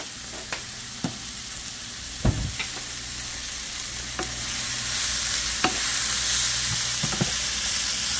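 Karela (bitter gourd) with salt fries in a pan, a steady close sizzle broken by sharp clicks and scrapes of a spatula at irregular intervals.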